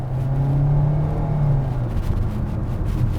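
A 2022 Kia Seltos with the 2.0-liter engine accelerates in sport mode, its steady low engine drone rising slightly in pitch and holding loud and close for about three seconds, heard from inside the cabin.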